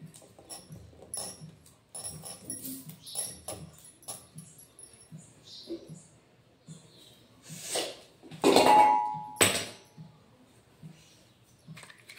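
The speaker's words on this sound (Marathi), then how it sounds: "तर मिरची कापूया. मस्त ताजी ताजी आहे मिरची." Fresh green chilies being sliced on a kitchen board, a run of soft knife taps and patters close by, broken by a couple of louder clattering bursts near the end.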